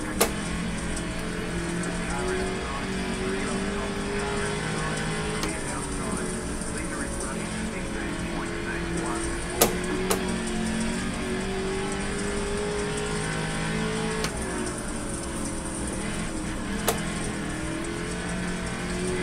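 Race car engine droning steadily through a sim-racing lap in iRacing, the pitch shifting with gear changes and throttle, heard continuously with a person talking over it.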